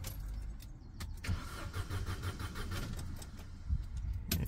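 Car engine cranking over repeatedly while a fuel pump fault with code P2029 is diagnosed, a steady low mechanical churn with rhythmic pulses and no voices.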